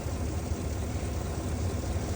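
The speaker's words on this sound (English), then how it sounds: "It's been running for quite a while now, just sitting here idling." A 2021 Cadillac Escalade 6.2 L engine idles steadily during a coolant system air purge, a low rumble, unchanging and close, with no voices.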